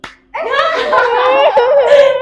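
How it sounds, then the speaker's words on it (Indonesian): A class plays a counting clap game, with a group of voices chanting together loudly and a few hand claps landing among the chant, up close. "Tepuk satu. Tepuk satu. Tepuk satu. Tepuk dua."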